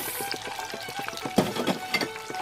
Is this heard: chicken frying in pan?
yes